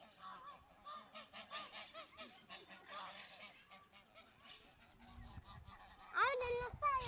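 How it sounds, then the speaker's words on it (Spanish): Ducks by the water at a campsite give loud honking, goose-like calls that rise near the end, over a busy background with people talking faintly. "allá están los patos tomando agua"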